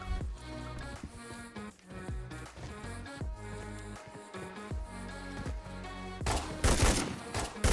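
Heavy, punchy shots from an Eagle gun in the mobile video game Arena Breakout, a loud string of sharp reports over game music, ending in a dense, noisy burst.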